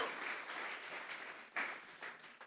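Church congregation applauding during a Spanish-language sermon, a moderate, steady wash of clapping lasting a couple of seconds with a few sharper swells, heard at some distance.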